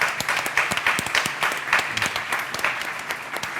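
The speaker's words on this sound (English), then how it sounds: "I'd like to give a round of applause to our panel" A conference audience claps for a panel at the end of a session: dense, even applause from many hands, steady for a few seconds without cheering.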